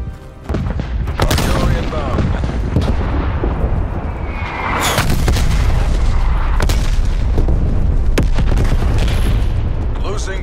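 Artillery shells pound down in a Call of Duty: Black Ops Cold War multiplayer match, a loud run of booming blasts and cracking gunfire that keeps going the whole time, with heavy rumbling impacts piling on one another.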